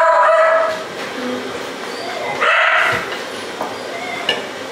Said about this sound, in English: And it's barking.